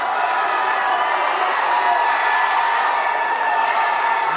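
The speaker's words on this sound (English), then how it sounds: "The crowd is rocking here at Acuity Fieldhouse" A dense crowd roars and cheers steadily at a boys' high school basketball game in Acuity Fieldhouse, loud and continuous throughout with no break.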